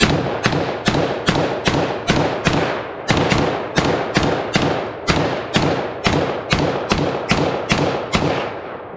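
Semi-automatic shots from an HK G36 rifle fitted with a Hensoldt ZF dual optic at an outdoor range, about twenty loud, evenly spaced reports with short ringing tails, no talking.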